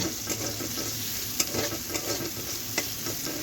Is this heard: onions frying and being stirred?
yes